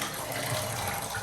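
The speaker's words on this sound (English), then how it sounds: "that's the rest of the water falling in there" Residual water falls into a toilet tank during a DIY fill valve replacement, a steady close splashing trickle that continues without pause and with no talk.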